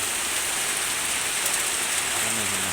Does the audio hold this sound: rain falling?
yes